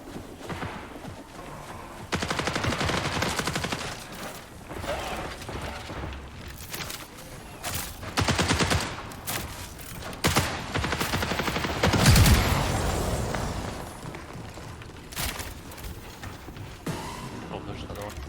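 Gunfire in the shooter game Marathon sounds out in loud automatic bursts and single shots, with rapid, repeated volleys over several seconds, heard under players talking.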